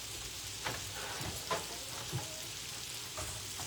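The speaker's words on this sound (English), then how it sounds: "cooking my meat" Ground meat fries in a pan with a low, steady sizzle, broken by several soft scraping strokes of a spoon stirring it.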